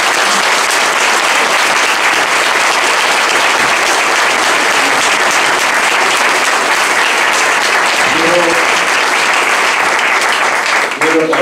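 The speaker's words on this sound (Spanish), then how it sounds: "Para ellos os pido un fuerte aplauso como muestra de nuestra gratitud." Sustained audience applause fills a Spanish Día de España institutional address in Valderredible, steady and dense from start to finish with a few faint voices near the end.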